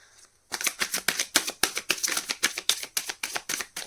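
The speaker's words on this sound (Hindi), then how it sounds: "लास्ट शफल है गाइस" Tarot cards being shuffled by hand, a rapid run of about fifteen crisp riffling bursts in steady rhythm, close and fairly loud after a brief quiet start.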